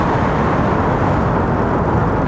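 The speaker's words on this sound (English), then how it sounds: "All the traffic noise is just echoing and reverberating all straight into my ears." Dense, steady roar of road traffic echoing and reverberating inside an enclosed space at Itami Airport, loud and continuous with no clear breaks or individual vehicles standing out.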